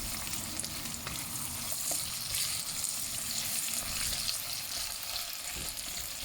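Onions frying with free-range chicken in a pan, a steady close sizzle with soft stirring scrapes and no talk.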